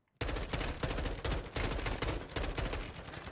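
Sustained automatic fire from a sentry gun turret in Call of Duty: Modern Warfare 2 co-op on Mt. Zaya, a dense rapid stream of shots starting abruptly and continuing loud throughout.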